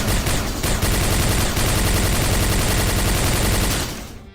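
A Hyper Blaster energy weapon fires in a video game, a rapid, unbroken stream of loud sharp shots rattling close for about four seconds before cutting off, with no voices over it.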